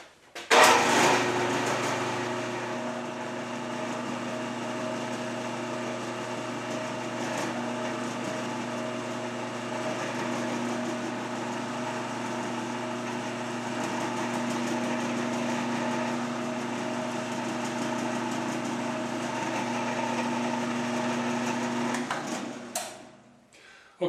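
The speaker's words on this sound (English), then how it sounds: "So now's the time to center drill that hole." A milling machine runs steadily with a high-pitched whine and hum as it center drills a hole, holding a constant tone for about twenty seconds before spinning down.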